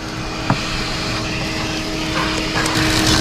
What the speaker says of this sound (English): You can hear all the debris going in as it's extracted.